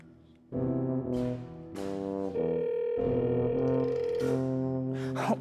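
A phone call ringing out with no answer, sustained electronic ringback tones sounding in steady repeated bursts, clear and close, with no one speaking.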